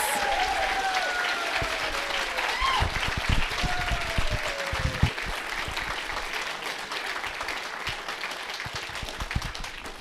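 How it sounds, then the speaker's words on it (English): Audience applause honoring 2023 exiting interns at a Community Based Transition Program graduation, a continuous moderate round of clapping with a few voices and whoops mixed in. "join me in a round of applause for honoring our 2023 exiting interns"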